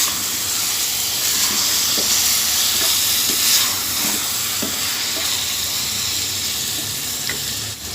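Chopped medium tomatoes are stirred into minced meat frying in a pan. The steady loud sizzle is broken by a few faint scraping knocks of the spoon, and nobody speaks.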